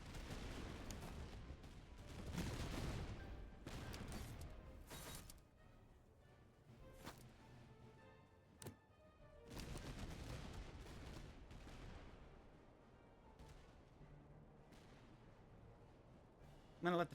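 Musket volley fire in the video game Master of Command sounds as repeated crackling bursts of massed gunfire, loud at first, then scattered shots and rumbling reports that fade and swell over the stretch, with no voices.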